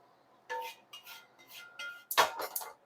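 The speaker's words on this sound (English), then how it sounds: "I'm going to deglaze this pan." Carrots browned in a pan, then deglazed with liquid: a few short metallic scrapes and clinks of a utensil on the pan, ending in one sharp, louder clatter near the end, close and without talk.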